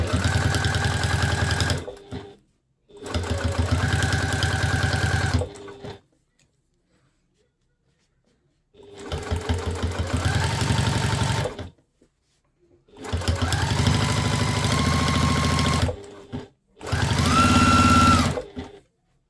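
A sewing machine stitches the seam of a quilted boxy nappy pouch in four close, loud runs of rapid needle hum. The runs are separated by short pauses and one longer silent gap.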